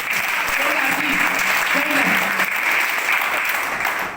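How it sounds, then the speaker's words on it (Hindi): Audience clapping at a company speech event for a marketing firm, dense sustained applause across the whole stretch, with a voice briefly heard over it early on. "ताली बजाओ एक बार"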